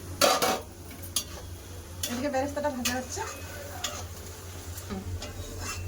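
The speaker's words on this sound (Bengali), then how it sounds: "বেরেস্তা ভাজা হয়ে গেছে এবার তুলে নেবো" Sliced onions fry for chicken biryani in a pan, sizzling softly under metal stirring clinks and scrapes, with a person speaking briefly.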